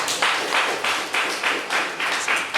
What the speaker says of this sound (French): Remise et reprise confirmée et scellée par les applaudissements.